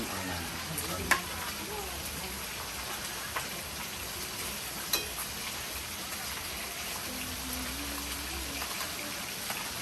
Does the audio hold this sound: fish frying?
yes